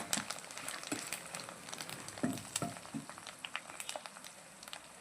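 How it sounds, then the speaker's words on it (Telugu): Tempering for tamarind pulihora crackles and sizzles gently in a pan over a low flame, with small pops and spatters scattered over a soft, steady frying hiss. "మాడిపోకుండా సన్న మంట మీద ఫ్రై చేసుకోవాలి"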